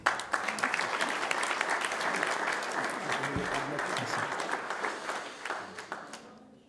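A seated audience at a book prize presentation applauds warmly and steadily, clapping building quickly and holding for several seconds before tapering off, with faint voices underneath.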